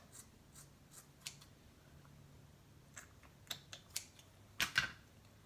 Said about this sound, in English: you get your scissors, and you cut down at an angle